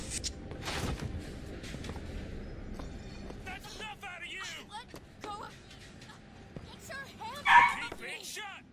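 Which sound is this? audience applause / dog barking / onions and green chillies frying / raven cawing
dog barking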